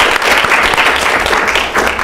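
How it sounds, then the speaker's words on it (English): A room of people applauds the freshman caucus at a student government meeting, a dense, loud burst of clapping that continues steadily throughout. "Let's give them a round of applause, please."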